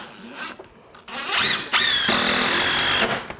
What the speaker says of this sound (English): Nice and tight, and then we'll drive the screw.